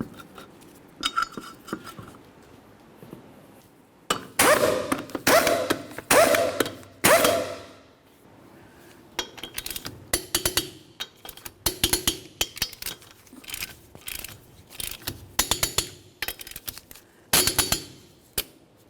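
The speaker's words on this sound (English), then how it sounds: "then we'll torque each of them to 100 foot-pounds" Lug nuts on a 2005-2010 Chevrolet Cobalt wheel being torqued with a torque wrench, with loud metallic clicks and ratcheting taps in repeated close bursts and quiet gaps between each nut, no talk.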